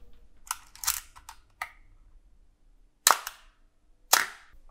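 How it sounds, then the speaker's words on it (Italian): A handful of crisp mechanical analog film camera shutter clicks, near and clear, separated by silent gaps, with the later releases at slower shutter speeds sounding slightly drawn out. "Proviamo a rallentare un po' il tempo di scatto"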